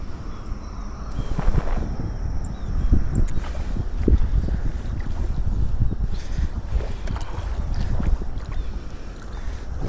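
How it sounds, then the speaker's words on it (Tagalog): Strong wind roars and buffets the microphone steadily throughout, with low rumbling gusts over a watery outdoor background beside a river. "Malakas yung hangin ah."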